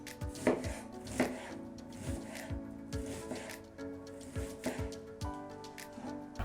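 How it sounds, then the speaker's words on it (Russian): A knife chops an onion on a cutting board in steady, brisk strokes, each thud crisp and close, repeating in an even rhythm. "1 луковицу нарезаем достаточно мелко."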